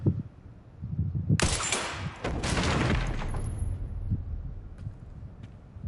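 Rifle shots in Resident Evil Requiem: a sharp loud burst of gunfire followed by a second crack, then fading echoes and quieter ambient sounds.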